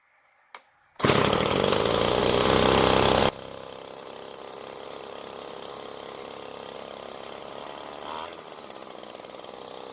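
A string trimmer's small two-stroke engine, just repaired with a new fuel line, bursts to a loud, high rev for about two seconds, then drops to a steady, lower idle that runs on alone with a slight rise near the end.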